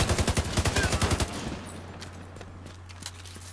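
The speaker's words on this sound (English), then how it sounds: "Who is shooting?" Rapid automatic gunfire bursts in The Division 2 during a hostage situation, loud and rhythmic for over a second before giving way to scattered quieter shots and a low hum.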